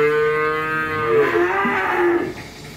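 Breeding cattle bought for shipment, two cows and two bulls, moo with long, loud, harmonic calls that overlap and swell, close by, with no talk over them.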